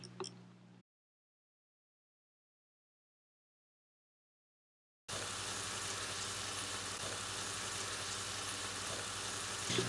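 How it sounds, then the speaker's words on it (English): Egg, potato and green chili mixture sizzles and fries in a pan over medium-low heat, a dense steady crackle close by; a brief bit of sizzle, then a gap of silence, then continuous frying with no voices. "We will mix everything together and let it cook for 1 to 2 minutes on medium to low heat."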